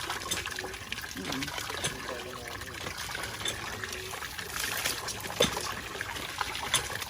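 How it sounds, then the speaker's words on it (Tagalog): Water is poured over someone bathing, a continuous splashing trickle heard under ongoing talk. "Ben, buhos na, dali, buhos."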